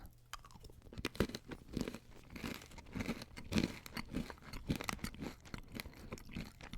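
Crunchy Trader Joe's snacks being bitten and chewed close to the mouth, with loud, dense crunches repeating in quick irregular bursts throughout and no talking.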